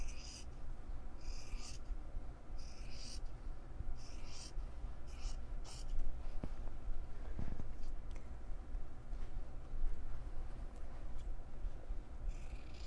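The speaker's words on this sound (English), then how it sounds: "I'm going to take my scissors and I'm going to start to cut" Scissors cut through a single layer of fabric along marked lines for bias binding, giving soft, rhythmic snips and slicing swishes close by in a quiet room.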